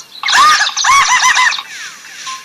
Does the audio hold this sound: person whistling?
no